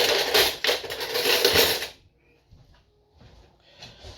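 Metal cutlery clattering and jingling as a tablespoon is pulled out in a kitchen, a dense rattling burst for about two seconds, then a few quieter scattered clinks.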